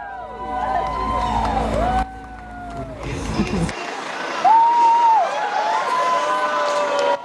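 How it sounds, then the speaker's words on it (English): A large crowd of well-wishers cheers for a departing crew at the Baikonur Cosmodrome, the cheering mixed with shifting whistles and voices, cutting between scenes with changing background noise. "a large crowd of well-wishers 2 days after that first launch attempt, still on the scene, greeting the crew"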